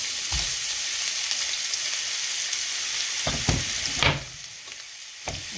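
Carrots and onions sizzle steadily in hot oil, with a few scraping stirs and clinks of a utensil in the pan, close by.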